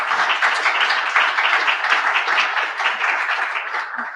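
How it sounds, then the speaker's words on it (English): An audience at the close of a talk on U.S.-China relations gives a sustained, dense round of clapping. It holds at an even level for several seconds before tapering slightly. "Can we have one more round of applause for Professor Sutter, Professor Shambaugh"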